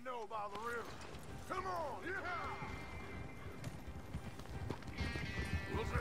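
Horse hooves clip-clop at a steady trot as a wagon rolls along in Red Dead Redemption 2, with a horse whinnying early on and players talking over the game sound throughout.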